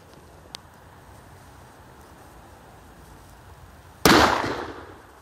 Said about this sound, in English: Here we go, let's shoot it.